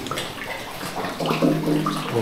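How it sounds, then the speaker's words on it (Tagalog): Strong flowing water rushes through a cave passage, a brief, close, steady gushing with no voices. "Malakas na yung agos ng tubig."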